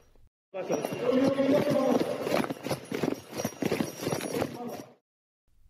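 A single wild boar runs into an underground parking garage, its rapid hoof clatter echoing off hard floors in a steady drumming patter that rises and falls for about four seconds before stopping.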